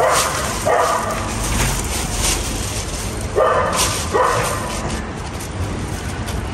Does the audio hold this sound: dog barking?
yes